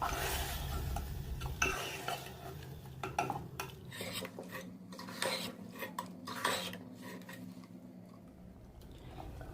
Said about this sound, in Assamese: মই এনেদৰে মিডিয়াম ফ্লেমত লৰাই লৰাই ভাজি আছোঁ।